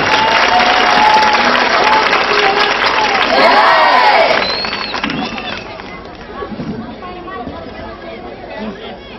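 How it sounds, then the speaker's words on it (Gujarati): Audience applause and crowd chatter for drama performers at a stage play, loud dense clapping for about four seconds, then fading into softer murmuring and scattered voices. "દરેકને એક સાથે તાળીઓના ગડગડાટથી વધાવી લેશો."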